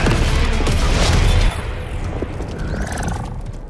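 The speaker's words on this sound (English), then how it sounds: "Activate Sonic Boom!" Sonic Boom attack effect from Mortal Kombat 1, a loud booming blast with a dense, roaring rumble that peaks over the first second and a half, then settles into a lower sustained roar.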